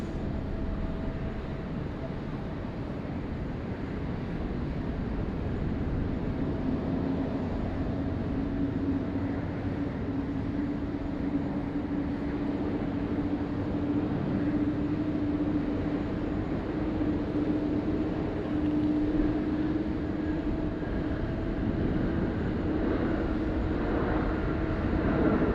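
Heavy international airliner arriving at Sydney Airport, a steady low rumbling jet roar with a faint rising whine, sustained and growing slightly louder throughout.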